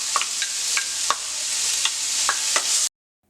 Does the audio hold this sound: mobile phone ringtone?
no